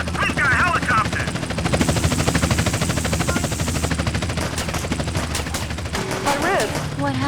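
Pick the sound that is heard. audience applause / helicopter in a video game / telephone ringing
helicopter in a video game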